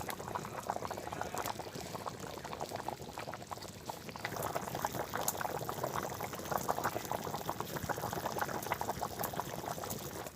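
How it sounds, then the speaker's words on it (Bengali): Water pours into a pan of potato curry over a village cooking fire, giving a steady bubbling, hissing rush that stays even and fairly faint throughout. "এখন জল দিয়ে দেবো।"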